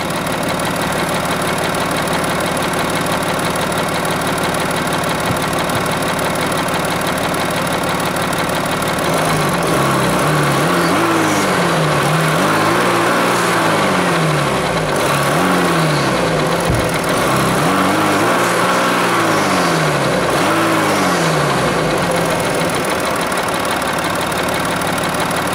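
A 2016 Audi Q7 3.0 TDI diesel engine idles with a rough, knocking rumble, then revs up and down several times in rising and falling surges, loud and close.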